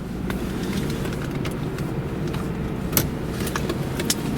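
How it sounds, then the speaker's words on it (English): Power windows go up on a 1995 Jaguar XJS convertible, heard as a steady low motor hum inside the parked car with a few faint clicks and knocks. "And then put up the windows."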